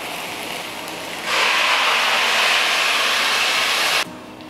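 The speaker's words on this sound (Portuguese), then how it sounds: "E já coloco a água." Water is poured into a hot pan of rice with green beans and carrot, setting off a loud, steady sizzling hiss that holds for nearly three seconds over a background sizzle before cutting off sharply.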